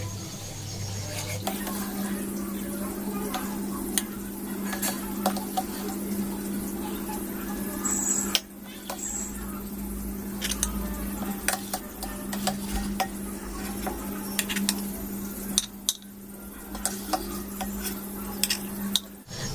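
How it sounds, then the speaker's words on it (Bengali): Jalebis are lifted one by one out of sugar syrup, giving scattered light clinks and taps of a utensil against a pot over a constant low background hum, close by and fairly quiet. "এবার চিনির রস থেকে এগুলোকে তুলে নেব একটা একটা করে"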